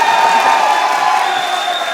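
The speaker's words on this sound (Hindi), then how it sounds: "अब बजा लो तालियां।" A live studio crowd applauding and cheering, a loud, full wash of claps mixed with scattered shouts and whoops.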